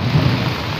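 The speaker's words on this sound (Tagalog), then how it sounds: "Ngayong araw ng Sabat, biglang umuulan." Sudden heavy rain falls in a dense, steady roar of drops, close and loud, with a low rumble underneath and no talking.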